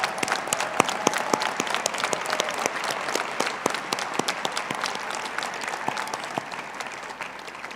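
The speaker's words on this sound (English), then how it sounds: "Let's give them a round of applause." A graduation commencement audience gives a sustained round of applause: dense, even clapping from many hands filling a large hall, steady throughout with no voices over it.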